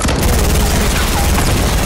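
Loud, rapid SMG fire in Fortnite Battle Royale crackles almost without a break, in dense overlapping bursts that fill the whole moment.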